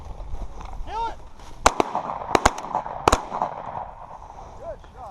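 Shotgun blasts at an outdoor pheasant hunt: four sharp, loud reports, a close pair and then two more, cracking over wind and chirping birds, with hunters calling out around them.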